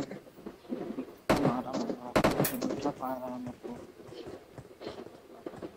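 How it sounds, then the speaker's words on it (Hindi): Gunfire from above in the video game PUBG Mobile, a few sharp cracking shots in quick bursts, loud and close, with players talking over the game sound. "अबे देखो ऊपर से फायर आ रहा था मैं देखा"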